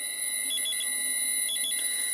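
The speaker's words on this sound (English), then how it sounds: "So you're only getting like two beeps now." A Schmitt trigger two-tone alarm circuit on an electronics bench beeps steadily, its thin high electronic tones switching back and forth in a close, even pattern with a faint hiss beneath.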